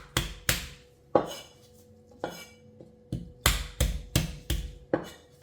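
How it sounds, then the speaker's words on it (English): Knife chopping water chestnuts on a cutting board in a home kitchen while preparing a steamed pork patty with sausage, heard as about a dozen sharp, close, irregular thuds with no talk. "And you chop like this too?"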